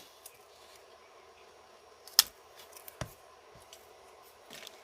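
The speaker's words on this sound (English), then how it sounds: "So I'm trimming this because I wanted to bush out more in there" A few quiet, sharp snips of scissors trimming a Fittonia plant inside a terrarium, isolated clicks spaced irregularly against a near-silent background.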